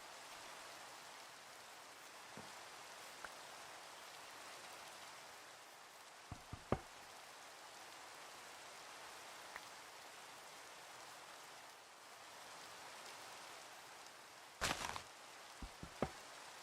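Rain falls in a video game as a steady, even hiss of drops throughout, with a few sharp clicks and short bursts of noise near the end and no talking.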